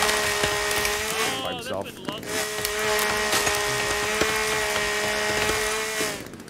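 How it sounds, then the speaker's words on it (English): A chainsaw cuts wood in the survival video game The Forest, its engine droning steadily with a brief break in the middle, while a voice talks over it. "I couldn't hear it with the chainsaw going"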